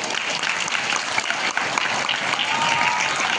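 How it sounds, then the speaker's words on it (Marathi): An audience at a Marathi Language Day school event applauds writers and literature lovers, with steady, dense clapping that continues evenly at moderate loudness. "सर्व साहित्यप्रेमींसाठी आणि सर्व साहित्यिकांसाठी एकदा जोरदार टाळ्या होऊन जाऊ दे"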